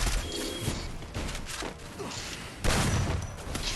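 Gunfire in the shooter game Free Fire: dense, overlapping bursts of shots crackle almost nonstop, with a louder, heavier burst near the end.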